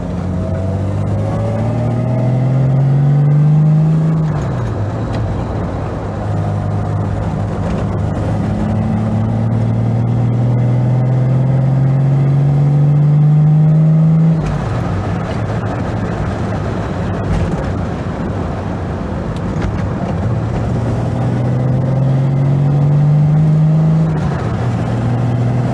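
A Jaguar E-Type engine pulls hard while driving, its note rising steadily through each gear before dropping at the shift, three climbing sweeps in a row, loud and close from inside the car.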